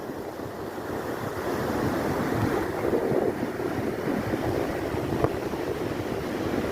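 Rough sea waves crash and roar on Puri beach in the rain, with gusting wind buffeting close by in a constant loud, dense wash, and no voices.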